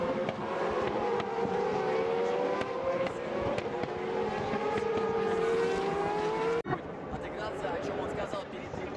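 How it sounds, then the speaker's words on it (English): Race cars on the formation lap at Moscow Raceway for World Series by Renault drone past with sustained engine tones that rise and fall, loud and continuous, with a commentator talking over them until a sudden cut. "Cars on the formation lap around Moscow Raceway"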